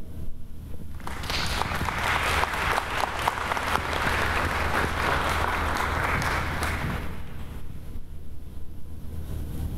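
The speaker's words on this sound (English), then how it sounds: "Let's give Ms. Sims another round of applause." A summit audience applauds after a speech, sustained dense clapping that swells in and then fades out toward the end, heard alone without talk.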